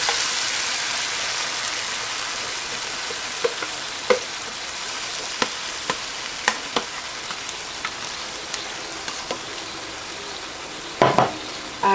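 Oats (dalia) with chicken and spices stirred in a hot pan: a steady, loud sizzle throughout, dotted with occasional spoon scrapes and taps against the pan.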